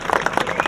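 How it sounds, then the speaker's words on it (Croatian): An audience applauds at a Roman-style football match staged in Crikvenica in 2007, a brief burst of scattered clapping. "na vama je da ih obdarite s jednim lijepim pljeskom"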